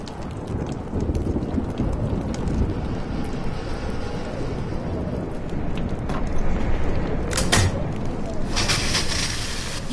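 Steady heavy rain from a thunderstorm in Life is Strange pours continuously, with a low rumbling bed underneath and a couple of brighter crackling bursts near the end.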